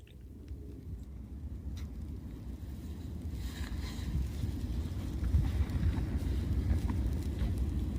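Wind roaring steadily at a snowy campsite in a -10 degree snowstorm, a dense low rumble buffeting the microphone that grows slightly stronger midway and never lets up.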